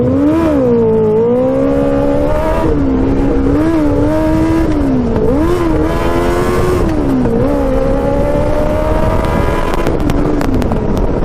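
A 650cc go-kart engine roars close and loud after a clutch dump, its pitch climbing, dipping and climbing again repeatedly as it pulls through gears, with no voices over it.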